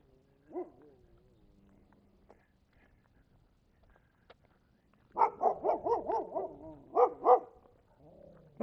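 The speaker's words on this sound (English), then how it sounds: "I think those dogs are behind the fence." Dogs behind a fence on a residential street bark in a quick burst of several loud, rapid woofs, preceded by a brief faint yelp and quiet outdoor ambience.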